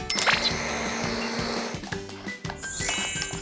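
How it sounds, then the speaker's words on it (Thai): A blender purées a shrimp fish-cake mixture with sugar and flour for Thai fried shrimp and crab cakes. Its steady, loud whir runs for about two seconds, then gives way to a rougher, shifting churn. "ปั่นเลยนะครับปั่นจนตัวเนื้อเขาละเอียดนะครับ"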